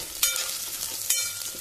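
Okra and onion sautéing in a little oil in a pan for a Konkani bhindi curry, with a steady low sizzle and two sharp scrape-and-stir bursts as the pieces are tossed, close and alone.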